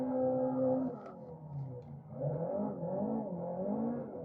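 A car in the Assetto Corsa racing game bogging on turbo lag after a clutch-kicked second gear, the engine note droning and sagging in pitch, then wavering back up in uneven surges, close and loud.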